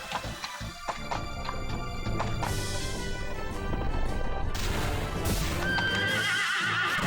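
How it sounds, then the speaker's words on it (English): Horse whinnying loudly alongside clip-clopping hooves in the PS1 video game Final Fantasy VIII, with game music and effects in the background and no talking. "Horsey."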